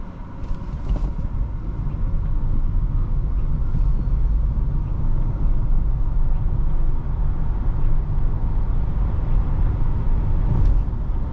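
A 2019 Nissan Leaf SL electric car accelerating from 0 to 60, heard from inside as a steady low road rumble and tire noise that holds loud and even throughout, with no engine note.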